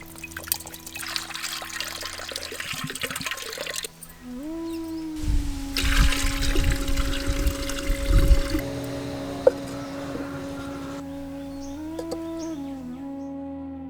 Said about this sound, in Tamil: இனிப்பு பொங்கல் வைக்க போற பானையில 3 இளநியை சேர்த்து இளநீக்கோட இப்ப தண்ணியையும் சேர்த்துக்கிட்டோம்